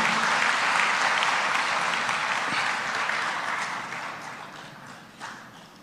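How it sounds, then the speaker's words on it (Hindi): A crowd applauds loudly and steadily, the clapping gradually thinning and fading toward the end. "अब ताली बजना चाहिए जरा जोर से"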